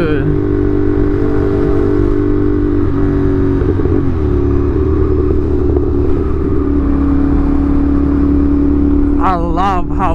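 A CFMOTO 450SR motorcycle engine runs loud and close, holding a steady, throaty drone with slight rises in revs, while voices talk over it.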